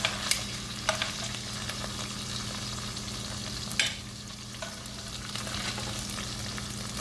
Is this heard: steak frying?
yes